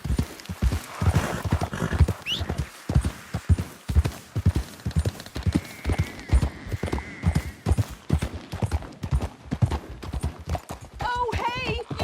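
Rhythmic clip-clop of a Missouri Fox Trotter's hooves in a video game, steady and close, with a brief whinny and a rider's short voice cue partway through.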